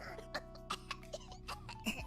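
A voice imitating a baby's cough during a Hololive collab, a string of about six short, faint coughing bursts with slight giggling in between, quiet and close.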